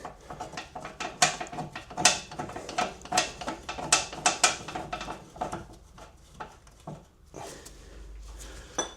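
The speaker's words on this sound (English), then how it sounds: "Now back on this side and put the top bolt in." A ratchet tightens a bolt on a Porsche, bursts of rapid close clicking with pauses and metallic clanks between them, no talking.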